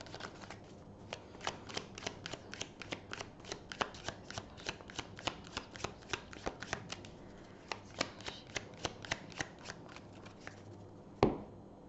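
A deck of playing cards is shuffled and cut for a tarot-style reading, a long run of crisp, close riffling snaps in quick steady rhythm, quiet and alone, ending with one sharper slap.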